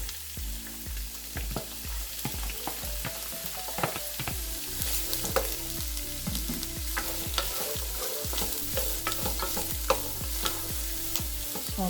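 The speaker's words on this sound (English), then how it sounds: "So then we're going to start with our carrot, celery, and onions. And we're going to let those saute." Carrot, celery and onions saute in oil for a beef stew, a steady close sizzle broken by frequent rhythmic scrapes and knocks of a utensil stirring the pan, with no talking.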